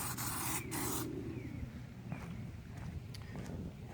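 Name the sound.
aerosol can spraying Plasti Dip on car grille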